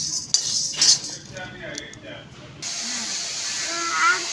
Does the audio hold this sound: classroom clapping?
no